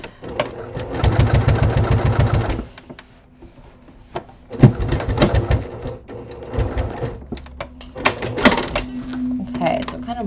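A sewing machine stitches an awkward seam on a leather crossbody bucket bag, running in several rapid mechanical bursts separated by pauses, close and loud, with a person talking between and over the runs.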